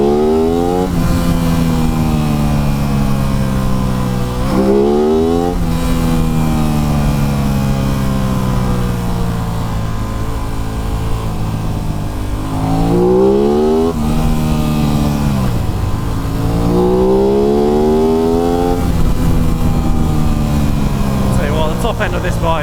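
Aprilia RS 660 sport motorcycle, 2023/24 model, engine revving hard through the gears, rising pitch sweeps broken by upshifts, loud and close with wind rush throughout.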